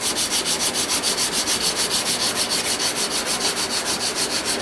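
Knife blade flats hand sanded with WD-40, a steady back-and-forth rasp repeating in quick even strokes, close and loud throughout with no talking.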